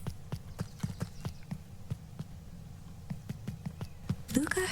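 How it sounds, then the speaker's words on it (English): Footsteps of a group approaching in the video game Beacon Pines, a steady series of soft, evenly spaced thuds over a low hum, ending in a brief rustling burst. "Luca heard a group of footsteps approaching."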